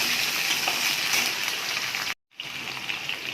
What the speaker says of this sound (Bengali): আলু দেব, কচু দিচ্ছি, এগুলো ভালো করে ভেজে নেব